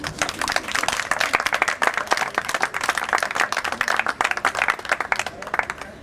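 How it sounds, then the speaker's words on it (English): Sustained applause from an audience at the Bijlmer Spinoza Project event, dense clapping filling the room steadily for several seconds with no pauses. "Jullie mogen best voor deze mensen applaudisseren."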